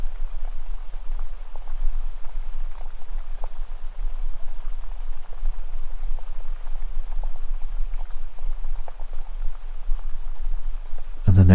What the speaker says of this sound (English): can still hear and perceive that rain and its soothing quality